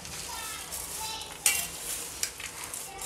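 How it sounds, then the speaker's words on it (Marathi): A spoon stirring powdered sugar through potato chivda, a soft dry rustle with light scraping and a couple of sharp clinks against the pan or bowl, close and fairly quiet. "आता दोन्ही याला एकत्र चांगल्याने मिक्स करून घेऊ आपण."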